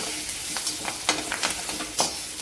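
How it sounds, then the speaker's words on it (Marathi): Curry leaves sauté with onion and green chili in a hot pan, giving a steady close sizzle punctuated by crackling pops and spitting bursts, with no speech. "आता आपण कढीपत्ता टाकून घ्यायचा आहे कढीपत्त्याला पण चांगला परतून घ्यायचं"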